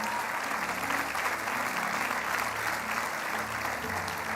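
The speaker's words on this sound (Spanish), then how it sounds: "Dale un aplauso al Señor fuerte." Church congregation applauding steadily and loudly throughout, a dense wash of clapping hands filling the room, with a faint voice underneath.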